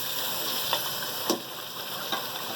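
Masala for a beef yakhni pulao sizzles and fries in a pot, a steady close crackle broken by a few light clanks of the spoon.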